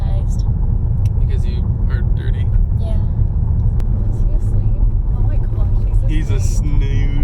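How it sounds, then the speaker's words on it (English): A 400 HP V8 manual car engine drones steadily at low revs in sixth gear, a constant interior rumble under continuous conversation between occupants. "I bet I could put it in the 6 right now and it would just chug along"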